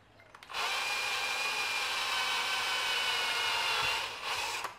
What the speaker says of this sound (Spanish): Ahora, hacemos aquí una pequeña perforación, más o menos encima.